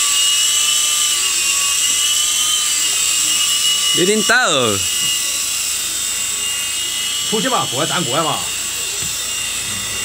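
A ready-to-fly RAH-66 Comanche remote control helicopter with a single rotor, 4-channel, 2.4 GHz radio control, flies with a constant high-pitched motor whine throughout while people talk nearby.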